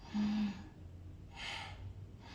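A single short, quick inhaled breath, like a gasp, demonstrates shallow breathing in a yoga pranayama lesson, close and soft, followed by a fainter second breath after a pause.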